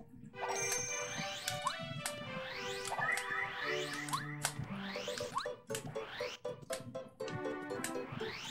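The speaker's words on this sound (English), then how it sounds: "it's the bells" Chiming bells in the Paper Mario video game, a layered melodic peal of bright tones with rising glissando-like sweeps repeating over a steady musical backdrop, continuous and full.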